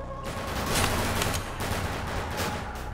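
Sustained gunfire from guns in the fast-paced shooter Severed Steel: a loud, dense barrage of rapid shots with several stronger bursts, close and continuous for the whole span, with no talking.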